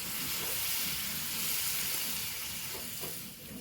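Liquid pours into a hot pan of kadala fry and is stirred, giving a strong steady sizzling hiss that fades slightly at the end, with no talking.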